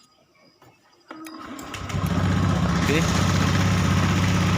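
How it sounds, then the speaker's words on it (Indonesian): A Honda Beat ESP motorcycle with a misfiring, stalling fault starts up after a brief quiet spell, then settles into a steady, close low idle while a person speaks briefly. "Kita nyalakan motor."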